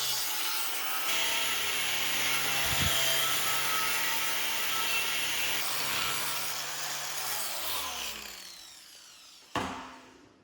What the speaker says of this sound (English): Rough shaping with the angle grinder. I'm using a 4060 grit flap disc to hog off the meat fast.